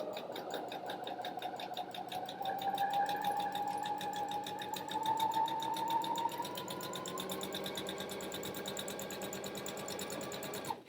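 A sewing machine stitches scrubs trousers in one long continuous run, its steady mechanical whir rising and shifting in pitch as it speeds up, close and fairly quiet with no talking.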